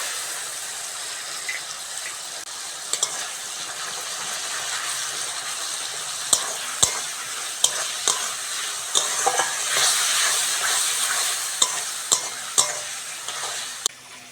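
Ginger-garlic paste fried with onion and tomato in a pan, giving a steady close sizzle throughout, broken by sharp spatula clicks and scrapes as the mixture is stirred, with no talking.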